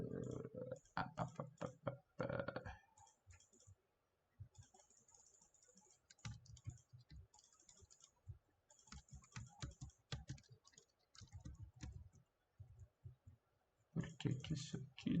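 Computer keyboard keystrokes tapped in irregular bursts and single clicks, faint and close, with pauses between runs and a person talking quietly over much of it.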